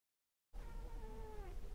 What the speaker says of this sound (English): Can you meow, please?